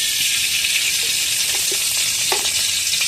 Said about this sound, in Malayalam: ഇനി നമുക്കിതിൽ നെയ്യ് ഒഴിക്കാം.